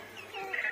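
Short, faint calls from a white rooster among chickens and ducks in a yard, a couple of soft clucking notes rising toward the end.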